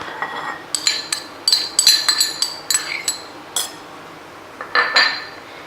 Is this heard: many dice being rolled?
no